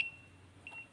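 A buzzer on a relay-controlled bridge navigational watch alarm circuit gives a thin, high electronic tone, a short beep at the start and another faint one near the end, quiet and alone.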